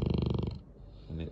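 A sleeping animal snores with a rough, buzzing breath that pulses rapidly, then pauses and starts again briefly, close by, with a voice speaking nearby.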